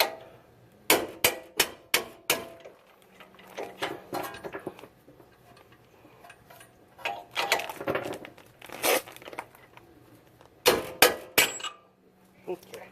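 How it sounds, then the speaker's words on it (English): A screwdriver is struck repeatedly to drive a bolt out of a Toyota Tundra's suspension during a Bilstein 5100 adjustable shock install, giving sharp metallic clinks in short bursts with quieter handling noises between. "Then I'll use a screwdriver to hit that in."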